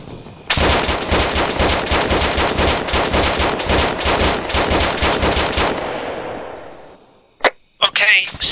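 Sustained automatic gunfire in a video game, with rapid, evenly spaced shots in a long loud burst that tails off. A few isolated sharp cracks follow after a brief pause.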